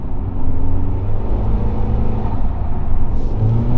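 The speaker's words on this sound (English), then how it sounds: "A little bit of turbo spool." A Toyota Caldina GT-Four's turbocharged engine under about 80% throttle, with a loud, steady drone and a faint whir of turbo spool layered over the rumble, no voices.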